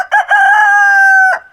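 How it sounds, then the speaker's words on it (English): A rooster raised for sustainable meat crows once, loud and close, in a full cock-a-doodle-doo with short opening notes and a long sustained call that breaks off at the end. "He's a beautiful rooster."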